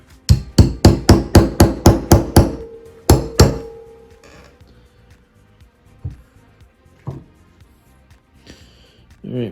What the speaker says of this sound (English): with a nail punch and a hammer here.